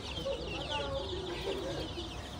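A chicken clucks softly and repeatedly nearby, quiet, short calls over a low background hum.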